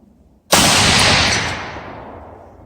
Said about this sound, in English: Man, that is just a fun gun to shoot.